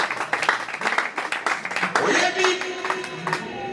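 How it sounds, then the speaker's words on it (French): Church congregation clapping and cheering in a sustained burst of applause, a dense run of claps lasting several seconds with voices mixed in. "Acclamons très fort."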